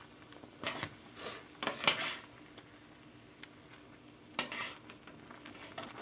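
Instant ramen noodles being stirred in a pot, bursts of wet swishing and utensil scraping against metal, loudest in the first two seconds and again midway, between quieter pauses.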